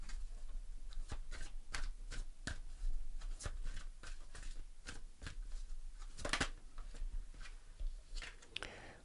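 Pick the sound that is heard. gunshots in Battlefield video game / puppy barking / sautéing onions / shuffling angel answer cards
shuffling angel answer cards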